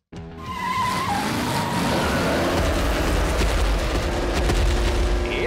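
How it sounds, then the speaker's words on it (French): Car tires squeal hard in the animated Hot Wheels City, a sharp screech that falls away and then becomes a sustained, loud rush of skidding and engine roar with no talking. "C'est de faire crisser les pneus."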